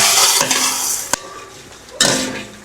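Stirring chicken tinola with ginger in a cooking pot over a light sizzle, with a sharp clink of a utensil against the pan and scraping bursts.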